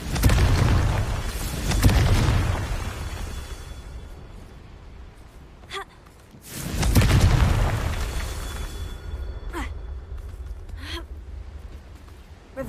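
Confringo blasting spell from Hogwarts Legacy going off twice as loud, booming bursts with rumbling decay, separated by quieter ambience and a few faint sharp pops.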